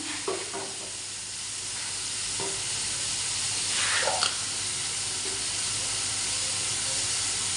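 Spices with ginger-garlic paste, turmeric, coriander and cumin powder, onion and chilli sizzle steadily in a hot pan while being sautéed for a prawn dish, a close continuous hiss broken by a few stirring scrapes and a brief louder spatter.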